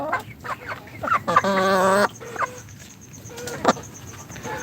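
Chickens on a Pakistani chicken farm cluck and squawk nearby, with one loud drawn-out call standing out amid scattered shorter clucks.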